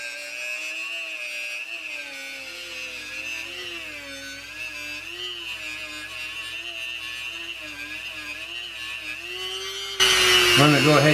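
A rotary power tool spins a polishing bob with coarse black compound against a pistol barrel's feed ramp, a steady high whine wavering in pitch as the load changes, ending in a brief louder scraping burst.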